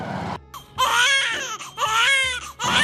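A baby cries loudly and close by in repeated wailing bursts with short gasping pauses between them, from an indoor household scene.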